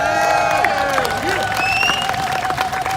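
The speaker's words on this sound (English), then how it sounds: "Give her a big round of applause." An audience at a Black History Sankofa Day event applauds the organizer, clapping and cheering mixed under ongoing voices and a sustained tone.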